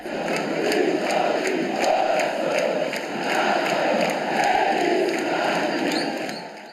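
A football crowd in the stands sings and cheers in the rain during a Monday night match, a dense, steady roar of chanting voices with rhythmic pulses, loud and continuous throughout.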